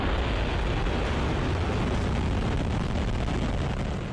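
A Russian Sarmat (Satan 2) missile lifts off with a loud, continuous roar that stays steady and dense throughout, with a faint easing at the very end.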